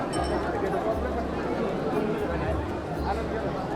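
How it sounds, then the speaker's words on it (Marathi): Busy crowd at a temple village in Shani Shingnapur, a steady hubbub of many overlapping voices with occasional faint clinks, continuous and moderately loud throughout. "भरपूर गर्दी आहे."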